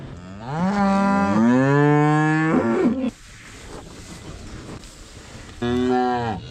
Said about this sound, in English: Right, sort out some cattle to feed.